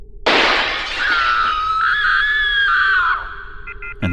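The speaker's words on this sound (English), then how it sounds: "the next thing I heard was the sound of glass shattering" Glass shatters with a loud crash in a horror short film, followed at once by a long high-pitched scream that holds for a couple of seconds before cutting off.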